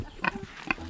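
Brief grunts from a Duroc pig, a short pair of snorting oinks close by, at moderate loudness with faint background noise.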